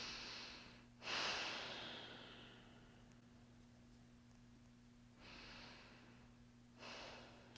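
Slow, deep diaphragmatic breaths taken while lying in a relaxed yoga rest pose, heard as three soft, airy swells a few seconds apart with long quiet pauses between them, close and alone over a low steady hum.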